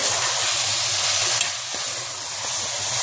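Carrots and cauliflower being mixed into masala in a pan for a mixed vegetable curry produce a continuous bright hiss of frying, with faint stirring underneath.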